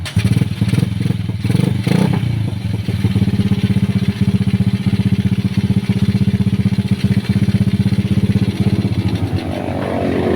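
A skeleton motorcycle with a bare, stripped frame starts up and runs at a steady, loud idle close by, with some clatter at the start, being wired with a regulator.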